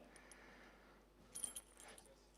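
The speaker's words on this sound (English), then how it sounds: "So I've got one of my keys here, my car key and my house key." A car key and a house key jangle together on a ring in a room, with a few brief metallic clinks, loudest mid-way, at a quiet, close level.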